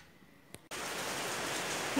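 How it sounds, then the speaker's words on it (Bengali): After a short quiet moment, rain outside sets in as a steady, even hiss that fills the remaining seconds with no talking. "বাইরে আবার বৃষ্টি শুরু হলো"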